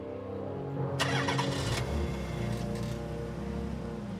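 A car engine cranks and catches near the one-second mark, then settles into a steady, close idle that runs to the end.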